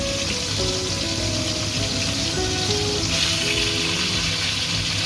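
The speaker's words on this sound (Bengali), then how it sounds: "এর মধ্যে দিব গোল গোল আলুগুলো ভেজে নেবো" Round potato pieces frying in oil, a loud, even hiss that holds steady throughout with no pauses, accompanied by faint tonal hum beneath.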